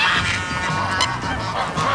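Dozens of geese honk loudly and continuously during feeding time, with ducks among them, a dense overlapping chorus of nasal calls close by.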